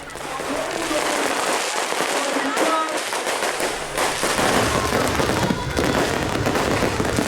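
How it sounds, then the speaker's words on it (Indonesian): New Year's Eve fireworks display over a city crowd of tens of thousands in Indonesia, a dense continuous crackle and popping of bursts that stays loud and close throughout. "Menyambut malam pergantian tahun, puluhan ribu warga menyaksikan pesta kembang api"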